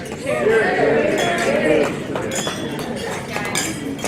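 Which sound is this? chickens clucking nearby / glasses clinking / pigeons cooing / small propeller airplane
glasses clinking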